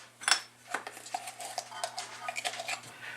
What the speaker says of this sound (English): Sift, mix, sift, mix.